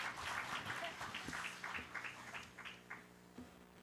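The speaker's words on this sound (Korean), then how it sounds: "여러분 박수를 부탁드립니다" Audience applause at the founding general assembly of a provincial residents' autonomy association, greeting the provincial council chair before his speech; a fairly faint patter of claps that thins out toward the end.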